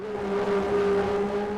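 A Ferrari race car in a sim racing league at Jerez holds a steady, loud engine note, sustained and near, with the pitch slowly shifting as it pushes hard, no voices over it.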